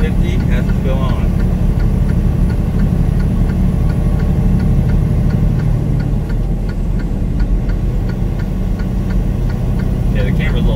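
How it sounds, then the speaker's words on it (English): Regular ticking of hazard lights clicking at a steady rhythm over a loud engine hum inside a truck cab, with speech at times. "You'll hear the hazards too, maybe"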